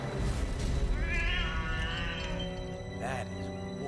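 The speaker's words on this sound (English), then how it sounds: "Loud meow." A loud cat meowing, a long drawn-out yowl with a shorter cry near the end, close and prominent over a busy background of game sounds.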